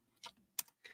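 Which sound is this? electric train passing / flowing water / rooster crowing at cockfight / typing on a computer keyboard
typing on a computer keyboard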